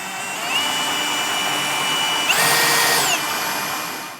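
A power drill steadily enlarges a hole from 7/16 to 5/8 inch in a truck bed while a Curt A16 fifth wheel hitch is installed, a continuous close whine with a brief rise in pitch midway.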